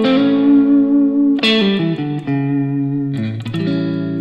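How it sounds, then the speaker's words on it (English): A distorted electric guitar plays a bluesy phrase of sustained bends and sliding notes, loud and up close with no voice. "So we can play the same type of licks,"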